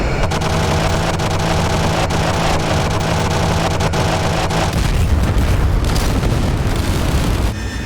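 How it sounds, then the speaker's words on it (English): Artillery fire from 105 mm howitzer shells exploding in a DCS combat simulation of the Afghanistan war in Helmand, heard as a dense, continuous rumble of booms and blasts with wind-like noise, loud throughout and easing slightly toward the end. "Oh, 105 howitzers hitting everywhere."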